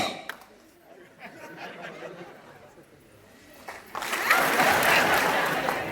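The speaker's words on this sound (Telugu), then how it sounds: "1 2 అందరూ ఒకేసారి కొట్టాలి, ఒకే క్లాప్ కొట్టాలి" An audience at a business talk bursts into applause, building to a loud, sustained wash of clapping after scattered earlier claps and low chatter and laughter.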